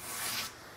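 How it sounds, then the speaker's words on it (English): Wood edges being lightly sanded with a 100-grit sanding block on a simple built-in bookshelf, a soft continuous rubbing swish that eases off halfway through, close and alone. "I'm going to take 100 grit on a sanding block and lightly sand everything down"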